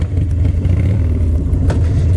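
A Harley motorcycle engine revs hard during a wheelie, a loud, steady low rumble with a brief sharper surge near the end and no voices.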